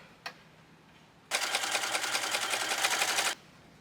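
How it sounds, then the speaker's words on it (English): A sewing machine zigzag-stitches a quilted coat in one steady, loud two-second run with a fast, even rhythm of needle strokes, preceded by a single short click. "So I will zigzag stitch it."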